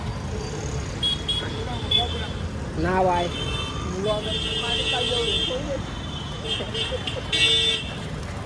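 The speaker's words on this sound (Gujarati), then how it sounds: "એ ટ્રાફિક દેખો તમે." Busy street traffic at Mandvi Gate in Vadodara rumbles steadily while car and scooter horns toot repeatedly nearby, and people talk over the noise.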